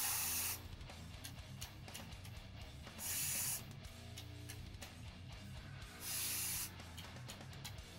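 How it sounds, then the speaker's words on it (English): Aerosol spray paint hissing from a can while splatter-painting a multicam camouflage pattern on a rifle, with three steady bursts of about half a second each, close and loud, over a low background hum. "You're gonna spray it on your fingertip."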